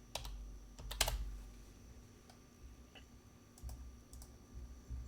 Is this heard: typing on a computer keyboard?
yes